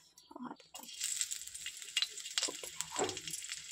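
Dried red chillies and green chillies hit a few spoonfuls of hot oil, setting off a sudden bright sizzle that keeps crackling and hissing steadily up close, with a little faint voice and clatter just before the sizzle begins.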